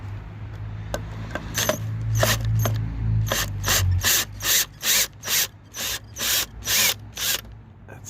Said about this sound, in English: So I've got the drill set up. Let's see if we can get this removed without tearing up the wood too much.